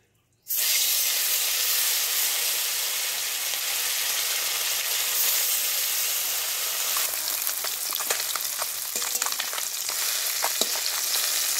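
Small puti fish fry in hot salted oil in a pan in a village kitchen, starting abruptly with a loud, steady sizzle and hiss that carries on alone, with some stirring crackles later.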